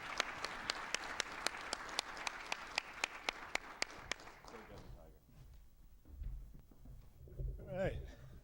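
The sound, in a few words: audience applause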